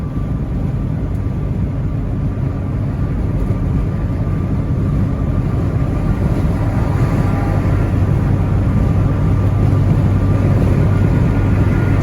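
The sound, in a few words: truck hauling hay driving on the interstate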